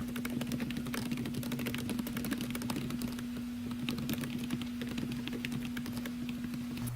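Rapid, irregular keystrokes clatter on a computer keyboard, close and crisp, with a steady low electrical hum running underneath.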